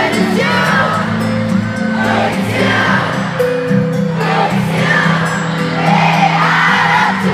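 A large concert crowd at a show in Jakarta screams and cheers continuously, a dense roar of whoops and yells over loud amplified music, steady and sustained throughout.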